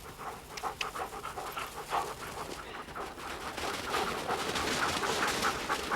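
A dog pants rapidly and rhythmically up close, quick breathy huffs repeating steadily with no talking.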